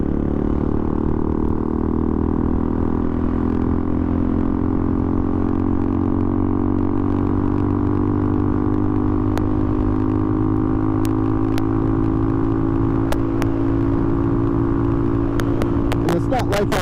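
A Benelli 135 motorcycle riding through commuter traffic, its engine holding a steady droning hum throughout with wind rush and a few sharp clicks near the end, no speech heard.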